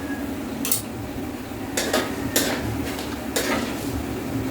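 Annatto seeds scooped out of a hot pan with a metal utensil, a few sharp scraping clinks against the pan over a low steady sizzle of oil, close with no talking.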